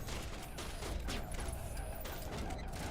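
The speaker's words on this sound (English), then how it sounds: "Well, they're shooting at me." Gunfire in Mass Effect Legendary Edition: a steady barrage of sci-fi weapon shots and impacts, dense and continuous, heard at moderate distance under game ambience.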